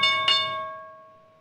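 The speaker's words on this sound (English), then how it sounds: "There's the opening bell" A single clear bell strike marks the stock market opening, its bright ringing tone sustaining and slowly decaying over about a second and a half, heard alone without talk.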